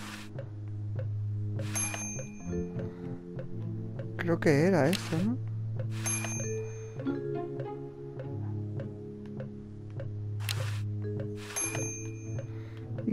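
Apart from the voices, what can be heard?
doorbell pushed in video game Day of the Tentacle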